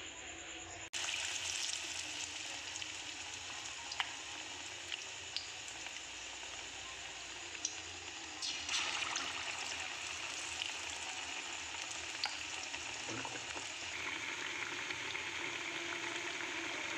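Batter-coated duck eggs frying in hot oil in a wok give a steady, close sizzle throughout, with a few sharper crackles and pops on top and no talking.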